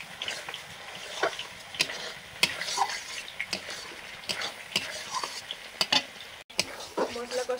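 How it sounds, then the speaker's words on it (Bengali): Spice paste for chicken biryani is being stirred and sautéed in a pan, with a soft continuous sizzle broken by scraping and clinking of a spoon against the pan at close range. "মশলা কষানো হয়ে গেছে"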